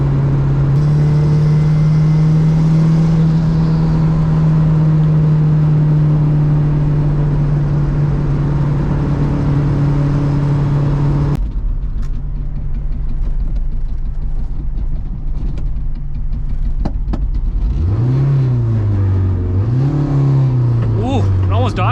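Triple-turbocharged Honda Civic engine running rich and rough on 15 psi of boost, a loud steady drone that cuts back sharply, then surges into uneven, wavering revs, with voices talking over it.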